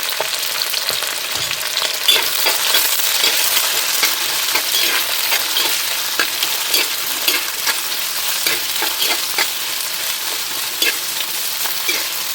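Sliced onions fry in oil for a sardine fish curry, giving a continuous close sizzle with scattered crackles and light stirring clinks and no talking.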